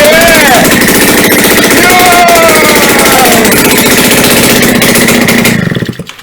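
A home-built MadMax-style doomsday prepper vehicle's engine, just fitted with new piston rings, roaring in a loud, rough, rapid pulsing chug that holds steady and then cuts off abruptly at the end, with someone speaking over it.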